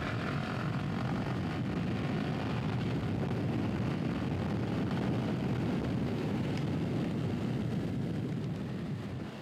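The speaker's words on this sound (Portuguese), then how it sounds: "Vamos dar uma acelerada aqui? Vamos ver de qual é que é." Yamaha XT 660 motorcycle engine revving, a loud continuous rumbling roar that holds steady without pauses.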